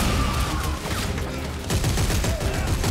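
Rapid bursts of gunfire blast at necromorphs in the video game Dead Space 3, dense overlapping shots rattling loud and close over about three seconds with no break.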